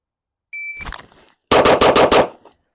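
Rapid string of pistol shots fired during a competition shooting drill, five sharp loud reports in quick succession after a timer beep, close by.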